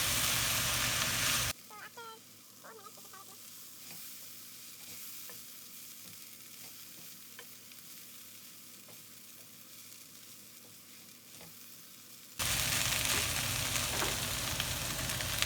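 Bitter melon frying in a pan, with faint sizzling and occasional light stirring clicks under a quiet background, set between louder broadband stretches at the start and end.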